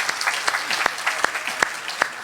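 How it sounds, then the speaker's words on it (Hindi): Scattered clapping from an audience at a Hindi poetry recital, a steady patter of hand claps with a few sharper louder claps standing out, moderately close and continuous without voices. "एक बार ताली बजाइएगा"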